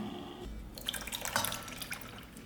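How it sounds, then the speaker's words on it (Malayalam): Thick coconut milk pours and splashes into a pan with a bubbling sizzle, steady for a couple of seconds, close by and moderately loud. "നമുക്ക് കട്ടി തേങ്ങാപ്പാൽ ഒഴിക്കട്ടെ."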